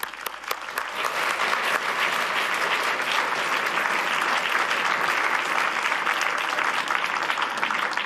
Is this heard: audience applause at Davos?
yes